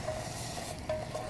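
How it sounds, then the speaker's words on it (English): Mandarin peel and sugar cooking down into a caramel sauce in a pan, a quiet, steady soft sizzle and bubble with faint stirring, close and low in level. "I'm using that mandarin peel and a little bit of sugar to make a caramelly mandarin flavoured sauce"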